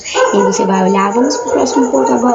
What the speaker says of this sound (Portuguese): Perdão pelo barulho de cachorro que tá saindo no áudio